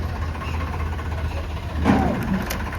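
A tractor engine idles with a low, steady rumble, close by, with a brief rise in noise near the end.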